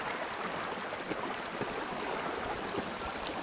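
Rainwater pours steadily off a gutterless roof during heavy rain, streaming down and running along the road in a continuous, even rushing wash with no distinct breaks.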